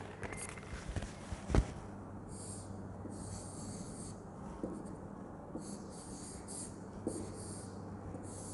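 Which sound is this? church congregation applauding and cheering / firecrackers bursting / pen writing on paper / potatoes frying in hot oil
pen writing on paper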